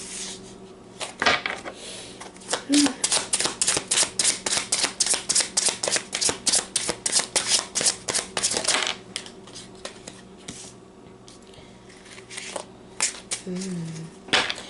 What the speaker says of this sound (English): Let me get all your cards out first.